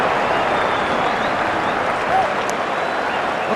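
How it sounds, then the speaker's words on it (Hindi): Applause from a cricket crowd at a Kolkata stadium during the India versus South Africa first Test, a steady, dense wash of clapping and crowd noise that holds evenly throughout with no clear peaks. "और तालियों की गड़गड़ाहट के साथ ये सिंगल को सेलिब्रेट किया गया है।"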